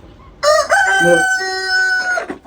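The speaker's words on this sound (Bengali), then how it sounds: "এই মুরগিটা আমার খুব শখের একটা মুরগি" A single long rooster crow, loud and close, rising then holding a sustained strained note before trailing off, with a faint cluck at the end.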